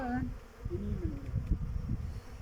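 A dense, low buzzing of a honeybee swarm close by, with a voice briefly heard over the hum.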